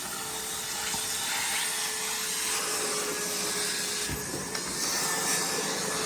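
An EGO 56V cordless wet/dry vacuum runs steadily at regular speed, a loud continuous whirring hum with brief knocks from the hose or nozzle.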